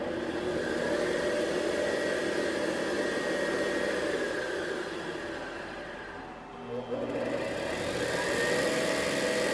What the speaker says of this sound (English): Now we're turning the spindle off and on by the software.